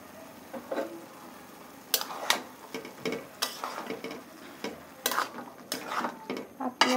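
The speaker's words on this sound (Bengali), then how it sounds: "এখন ভেজে রাখা মাছটি দিয়ে দেব।" Fried fish going into a simmering bottle gourd curry in a pan, with scattered clinks and scraping stirs over a low bubbling sizzle, the bursts irregular and close.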